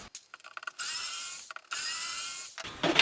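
A screwdriver works screws out of the lid hinges of a 1970 KB record player, giving close, gritty ratcheting bursts of metal turning, separated by brief pauses.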